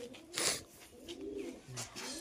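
Desi Giribaj pigeons coo in low, soft rolling phrases, a few short calls close by over faint background noise.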